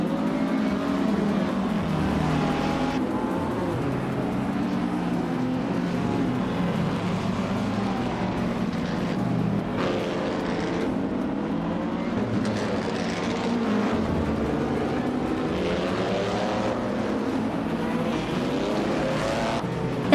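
A 1957 Curtis Craft 500B IndyCar in a racing video game, its vintage engine droning loud and steady with shifting pitch, blending with other cars' engines throughout, no voices.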